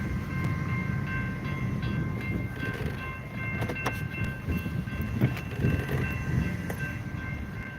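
A train of empty railroad cars rolls along the tracks, a steady broad rumble with faint metallic squeals and scattered clanks throughout, moderately close and continuous.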